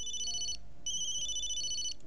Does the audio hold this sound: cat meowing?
no